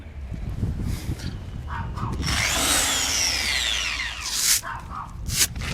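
A machine polisher fitted with a microfiber pad works scuffed Rolls-Royce paintwork, giving a soft whirring drone that rises and falls in pitch over several seconds beneath low rumbling handling noise and a few small knocks.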